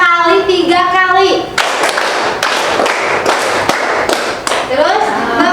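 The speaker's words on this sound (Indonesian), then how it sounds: "Tepuk tangan 2 kali, 3 kali." Hands clap in counted groups, a quick pair, then a burst of three, crisp sharp claps from a group in a classroom setting following spoken instructions, with talk before the clapping starts.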